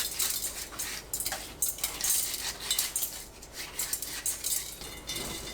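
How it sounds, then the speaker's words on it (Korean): Cucumber being scrubbed with coarse salt, a steady gritty rubbing with irregular scratchy scrapes and small clicks, close and moderately quiet, without any talking. "굵은 소금으로 문질러 씻어냅니다"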